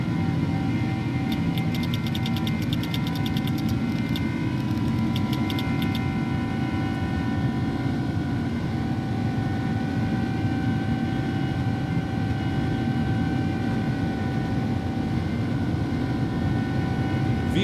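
Simulated iniBuilds A300 jet engines held at takeoff power in X-Plane 11, a steady loud roar with sustained whining tones and a light ticking early on, no talking.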